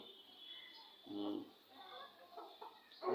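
A Fayoumi rooster gives a couple of short clucking calls close by, mixed in with someone talking over steady background noise.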